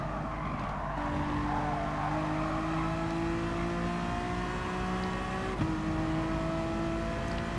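A Honda NSX laps the Goodwood circuit in a racing video game, its engine droning loudly and continuously, pitch climbing steadily through each gear, with a brief shift jolt midway.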